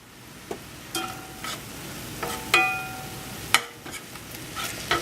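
Meat browning in a pan for a meat pie, a steady low sizzle broken by several sharp scrapes and clinks of a utensil stirring against the metal, close and fairly loud, with no talking.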